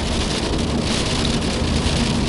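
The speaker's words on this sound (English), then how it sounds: "You can hear me above the hail" Hail pelting the body and roof of a Renault Zoe electric car, a dense, steady rattle that stays loud and even throughout with no voices.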